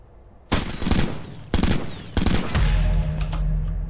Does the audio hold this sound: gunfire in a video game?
yes